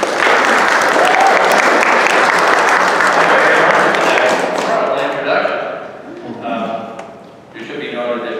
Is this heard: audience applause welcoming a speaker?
yes